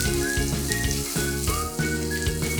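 Garlic sizzles and crackles in hot oil in a pan while fish and sauteed vegetables are being made, a loud, steady close frying hiss with background music playing.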